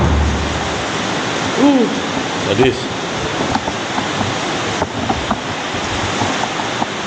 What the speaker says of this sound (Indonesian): Ini hujan nggak berhenti, nggak ngecilin, malah semakin besar.